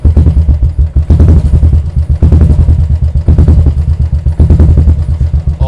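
A Royal Enfield motorcycle fitted with a Swagman silencer, throttle blipped up and down up close, loud deep exhaust thumping that swells and falls in repeated revs, alone with no talk.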